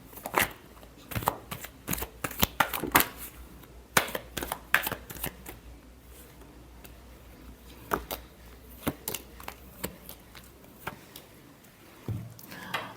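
A tarot deck is shuffled by hand in close, crisp bursts of riffling and snapping cards, coming in irregular clusters with short pauses between them and no speech.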